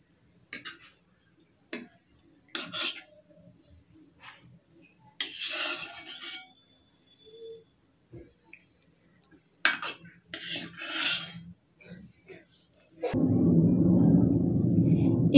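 Cooked raw mango scooped with a metal spoon into a small bowl, several scattered light scrapes and clinks over near silence, ending with a louder, steady burst of broadband noise.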